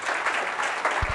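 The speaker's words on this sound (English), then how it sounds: "let's give him another round of applause." A burst of clapping from a university engineering class audience, dense and steady, with a couple of low thumps near the end.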